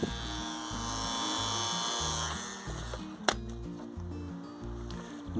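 An electric motor drives a three-blade propeller on an RC Piper Cub conversion at about one-third throttle, giving a steady close whirring drone with a pulsing beat, a sharp click near the middle, and no talk.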